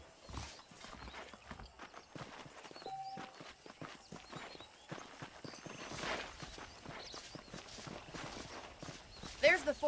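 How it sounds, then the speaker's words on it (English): Horse hooves clip-clop steadily across ground in the remastered Red Dead Redemption game, quiet and rhythmic under a speaking voice and light game ambience. "The horses are saddled up over here."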